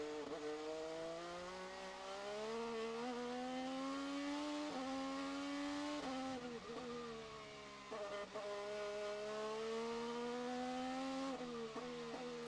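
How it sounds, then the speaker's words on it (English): In-car audio from an IndyCar on a wet track captures the engine's high whine climbing and dropping as the driver works the throttle, with sharp pitch changes at shifts and a steady loud presence. "let's get a little in-car and listen to him work the throttle as he goes around the track"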